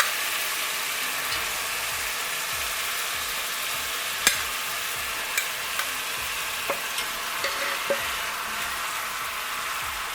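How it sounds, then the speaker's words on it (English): Oxtails frying in a pan with onions for oxtail stew, giving a steady, moderately loud broadband sizzle with a few sharp pops and clicks from spattering fat, alone with no talk. "Take our oxtails and drop them back in."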